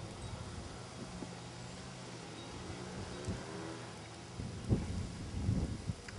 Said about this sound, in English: It's all this goddamn wind.